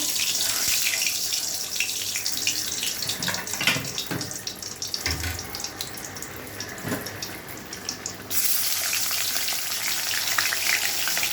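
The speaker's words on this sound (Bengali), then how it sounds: "তেল গরম হয়ে গেছে, এবার আমি মাছগুলো ছেড়ে দেবো" Hilsa fish pieces frying in hot oil in a kadai, a steady bright sizzle with running-water-like hiss, a few clinks and handling noises, and a sudden louder burst of sizzling toward the end.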